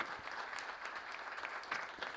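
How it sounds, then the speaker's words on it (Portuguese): Faint, steady applause from an audience closing an integral ecology and environmental diplomacy event, an even patter of many hands heard from a distance with no speech. "com uma salva de palmas de todos"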